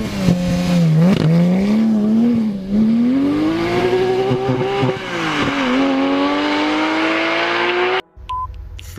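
Porsche 911 engine revving hard as it accelerates, a loud rising whine climbing in pitch over about eight seconds before cutting off abruptly, followed by a brief quieter tail.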